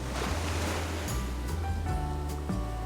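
Ocean surf washes onto pristine, nearly empty Water Canyon Beach on Santa Rosa Island in Channel Islands National Park, a steady close roar of breaking waves with wind noise buffeting the microphone.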